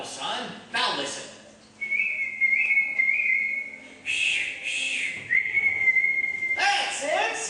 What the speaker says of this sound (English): And anytime you need me, you know, just whistle, like this.